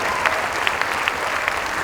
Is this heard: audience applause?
yes